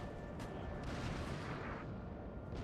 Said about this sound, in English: More artillery coming in on this hilltop